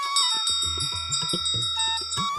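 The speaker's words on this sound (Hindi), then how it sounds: "उसने धीरे से घंटी बजाई।" A small bell rings with bright, sustained metallic tones, sounding close and fairly soft, over a low rhythmic thumping.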